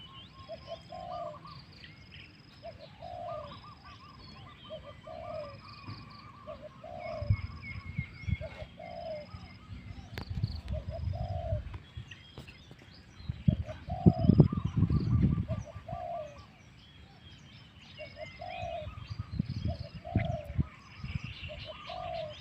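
Soft repeated cooing calls from a dove or pigeon in a steady rhythm, with faint chirps and low rustling noise in the background.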